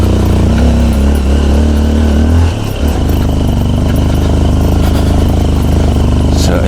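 A motorcycle engine runs steadily and loudly on a slippery dirt trail beside a ravine, with a brief dip in the drone partway through as the rider works the clutch, plus faint rattles from the bike.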